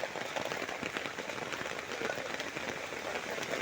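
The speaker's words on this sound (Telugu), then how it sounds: "ఫుల్గా వస్తుంది వాన." Heavy rain pours down on a street at Undavalli Center in Guntur district, heard from under an umbrella. A dense, steady patter of drops runs throughout with no talking.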